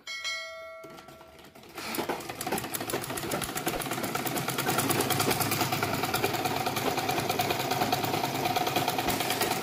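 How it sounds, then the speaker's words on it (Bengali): A Singer or Butterfly sewing machine stitching cloth after repair work on its feed dogs and presser foot, starting with a bell-like ring, then a close, steady rapid mechanical rattle of the needle that grows slightly louder and runs continuously. "আমাদের মেশিনে সুইং হচ্ছে সেলাই হচ্ছে এমনকি কাপড়টাও সামনের দিকে যাচ্ছে"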